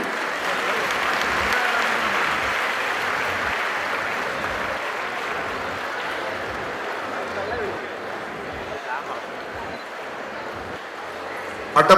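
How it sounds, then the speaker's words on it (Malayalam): A crowd at a Kudumbashree award event on the Chengannur Saras Mela stage gives a long round of applause honouring a stall from Attappadi. The dense clapping holds steady, then thins slightly toward the end, with speech faintly mixed in. "ഒന്ന് കൈയടിക്കണേ"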